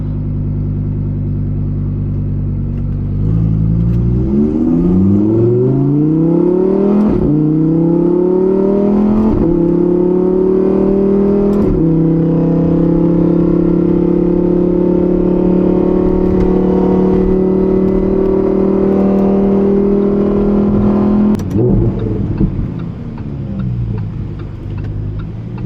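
A Lamborghini Huracan Evo Spyder with a naturally aspirated V10 engine revving and accelerating through rising gear pulls, loud and close from inside the car, then easing off near the end.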